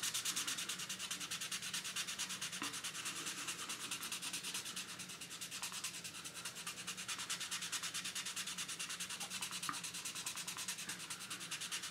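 Car paint being color sanded, a steady, fine abrasive rubbing with a rapid back-and-forth rasp, continuous and fairly quiet, with no voices.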